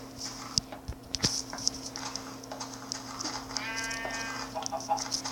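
Sheep bleating in the Minecraft video game, a few soft quavering bleats heard fairly faintly among light clicks and game sounds, with no talking.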